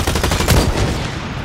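Close, loud automatic gunfire in the shooter game BlackLight Retribution, a continuous rapid rattle of shots with a heavier hit midway and no speech.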